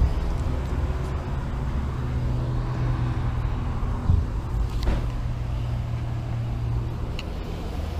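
Ambient gas station noise while a car is being filled up: a steady low rumble of idling engines and passing traffic, with faint occasional clanks over a constant background.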